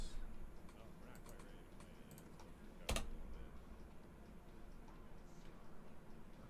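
Computer keyboard keys pressed at a desk while setting up input mappings in Unreal Engine 5: sparse, quiet clicks scattered over a few seconds, with one sharper, louder keystroke near the middle.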